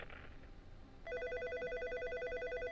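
A telephone rings at a radio station covering a Class 2A sectional high school game, its warbling electronic trill starting after a second of low background murmur and continuing steadily and loudly to the end.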